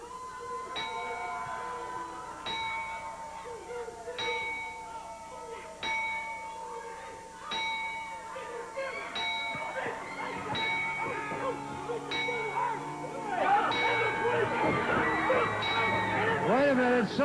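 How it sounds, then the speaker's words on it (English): A memorial bell strikes about nine times at a steady, unhurried pace during a mock funeral event, each clear ding ringing out before a crowd's chatter and clatter swell and bury the final strikes. "the traditional ringing of the bell in memory of our near and dear friend"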